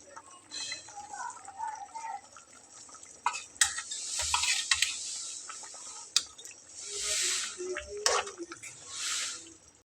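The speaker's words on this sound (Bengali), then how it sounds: "তো মাছগুলো একটু ফুলকপির ভিতরে ডাবিয়ে ডাবিয়ে দিয়ে নিচ্ছি" Fish pieces stirred and dipped into a simmering cauliflower curry, giving soft wet squishing and clinking scrapes of a spoon against the pot, in uneven bursts with hissing simmer between.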